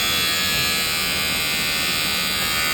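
Shinon S1913 cordless electric hair clipper running continuously, a steady high-pitched buzzing whine heard up close and alone, with no pauses.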